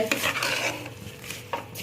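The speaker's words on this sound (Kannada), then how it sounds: "ಒಗ್ಗರಣೆ ಜೊತೆ ಸ್ವಲ್ಪ ಫ್ರೈ ಮಾಡ್ಕೊಳ್ಳೋಣ." Vegetables stir-fried with a tempering of spices in a pan, a run of scraping spoon-against-metal stirs with soft sizzling underneath, close and steady.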